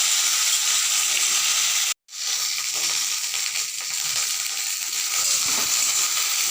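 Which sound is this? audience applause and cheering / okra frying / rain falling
okra frying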